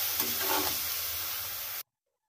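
Bottle gourd is stirred in a kadai with a little oil and fried bay leaf, giving a close, continuous sizzle with scraping turns that stops abruptly.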